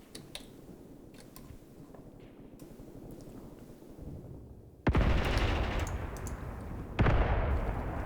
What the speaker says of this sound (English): Mortar salvo is now coming in full.